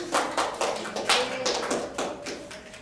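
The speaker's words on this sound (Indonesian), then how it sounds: "Beri aplaus untuk kelompok 3." A classroom group gives a short round of applause for a presenting group during a microteaching practice session, with several uneven bursts of close clapping.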